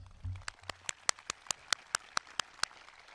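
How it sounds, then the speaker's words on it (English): Audience applause at a school Veterans Day program, heard as a run of sharp, separate claps spaced roughly evenly, sparse and moderately close rather than a dense roar. "Let's give them one last round of applause"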